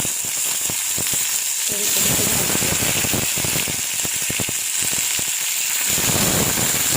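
Fresh green peas hitting a hot pan with green chilli pieces, a loud continuous sizzle peppered with sharp pops and crackles, close up, with a voice speaking faintly underneath.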